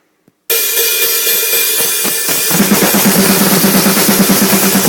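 A drum kit blast beat played at full speed: a loud, dense wall of very rapid, steady hits that starts suddenly after a brief silence and a faint tap, then runs on without pause.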